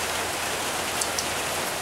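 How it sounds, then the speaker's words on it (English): Steady rain from a cool front falls outdoors, a dense even hiss of drops with a couple of slightly louder splatters, no voices. "you can probably hear the rain and maybe see the rain"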